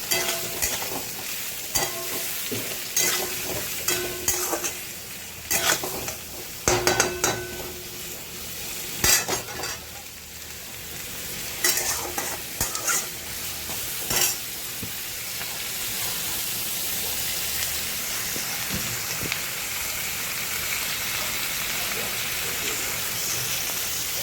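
Onions fry in a pan with a little salt and sizzle steadily while a utensil stirs and scrapes in bursts, then the frying settles into an even hiss.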